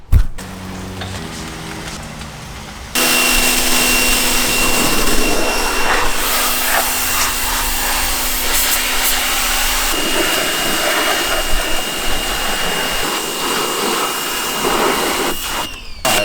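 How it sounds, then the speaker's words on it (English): A steady, loud high-pitched hiss of a pressure washer cleaning a BMW E36 car runs continuously after a brief quieter start, with a constant motor whine underneath. "The first thing I wanna do is just power wash this thing"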